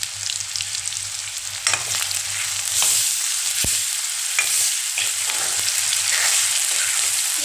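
Sliced onions with ginger-garlic paste fry in a pan for a chicken curry, giving a dense, continuous sizzle close by, broken by occasional scraping stirs of a spoon. No voices are heard.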